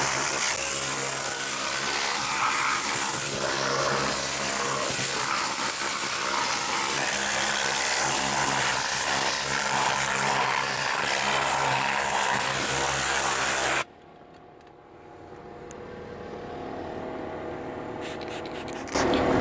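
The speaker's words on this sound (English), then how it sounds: "Using steam is amazing to really kind of remove any grime or anything that the interior could have" Steam cleaner cleaning a car interior, a loud continuous hissing rush for most of the duration that cuts off abruptly, leaving quiet faint rustling before a brief burst at the end, no talking.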